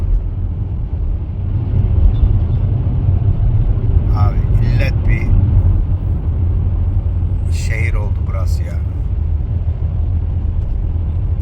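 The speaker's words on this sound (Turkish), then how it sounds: "köprüye gelmeden yine trafiğe yakalandık" Steady road traffic rumble heard from inside a car stuck in slow traffic on the approach to a bridge between New York and New Jersey, a continuous low drone with a person talking over it midway.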